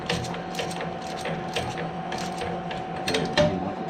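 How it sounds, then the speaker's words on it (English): A ratchet wrench is turned while leveling a Jeep Gladiator with Teraflex parts, giving quick, close metallic clicks in uneven bursts over a steady background hum. "I'll even turn the ratchet so it turns the right way"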